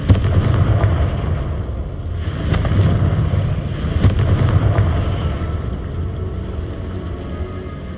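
Confringo fire curse blasts in Hogwarts Legacy, a sustained rumbling fiery explosion with a few sharper bursts swelling and fading over several seconds, no talk.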